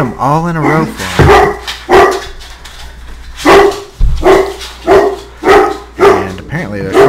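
Several dogs bark in repeated loud bursts at someone at the door, close by and agitated, with a person talking over the barking throughout.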